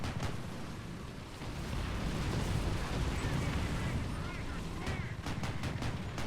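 In the War Thunder video game, artillery shells explode amid a dense, continuous rumbling roar that swells after the first couple of seconds. A cluster of sharper, louder bangs comes near the end.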